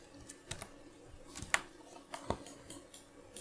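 Scattered close clicks from a computer keyboard and mouse while working in Houdini software, irregular single taps over a quiet background hum, without any talking.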